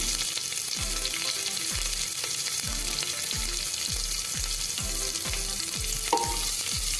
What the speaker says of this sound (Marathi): कांदा आपण थोडासा फ्राय करून घेऊया